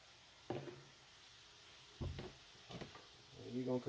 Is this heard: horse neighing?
no